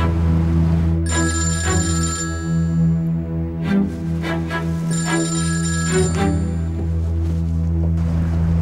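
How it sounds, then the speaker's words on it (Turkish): A telephone rings with an incoming call, two bursts of bright, repeating electronic trills over a steady background hum. "Şimdi telefon ediyor ama."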